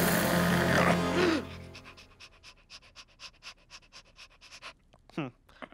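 A cartoon dog sniffs in quick rhythmic bursts and pants, close and fairly loud, right after a short stretch of speech at the start.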